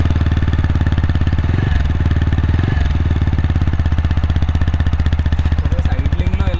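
A TVS Apache 160 4V motorcycle with a double-barrel exhaust in sport mode idles close by, giving a loud, steady, rapid thumping with a couple of brief throttle blips.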